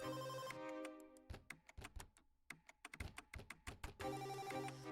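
A telephone rings in a quiet indoor room with a repeating electronic ringtone, followed by a stretch of soft clicks and taps before the ringing resumes, and no voices.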